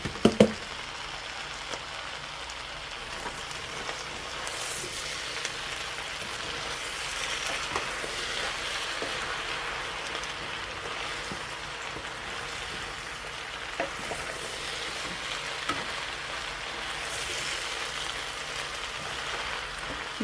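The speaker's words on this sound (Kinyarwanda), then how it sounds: "turahita dushyiramo ibitunguru" Onions frying in a pan, a steady close sizzle that runs evenly throughout with a few soft ticks and a clatter at the start.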